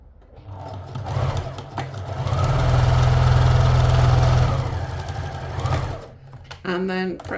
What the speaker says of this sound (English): put it together, right sides together, and sew that back seam